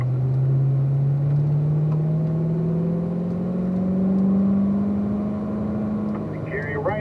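A race car accelerates on a track, its loud, close engine drone climbing steadily in pitch for several seconds with a brief higher whine near the end.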